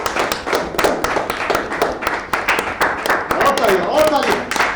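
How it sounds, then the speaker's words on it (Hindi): An indoor audience at a website launch event claps in a sustained burst of dense, irregular hand claps, close and lively, as a host speaks over it. "जोरदार तालियां हो जाए आज रॉकी के लिए।"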